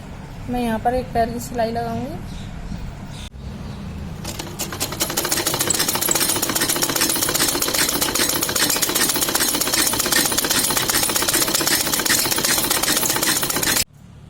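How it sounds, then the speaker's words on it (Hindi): Sewing machine stitching the hem of trousers, a fast, steady mechanical clatter that runs continuously for several seconds up close after someone speaks briefly. "मैं यहाँ पर एक पैर की सिलाई लगाऊंगी।"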